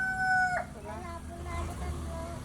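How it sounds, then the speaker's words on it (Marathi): A rooster crows once nearby, a clear rising call that cuts off quickly, followed by faint background murmurs. "कोंबडी सूर ओढायला लागलेत आम्ही जाताना"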